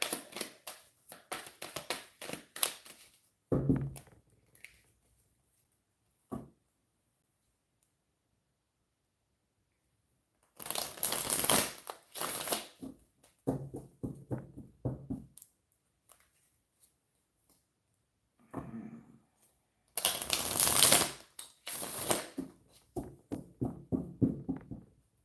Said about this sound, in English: I want to shuffle this deck out a little bit.